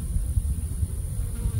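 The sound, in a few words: honey bee buzzing near beekeeper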